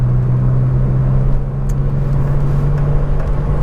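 A 1992 Volkswagen Corrado VR6 engine hums steadily while driving, a loud, continuous low drone with road rumble and a slight rise and fall in pitch, heard from inside the car.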